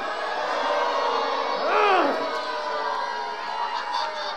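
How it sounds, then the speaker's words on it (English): An audience at a camp skit boos as one sustained crowd noise with a swelling, wavering vocal rise partway through, mixed with voices from the performers. "Your booing does help, but my blood sugar is plunging!"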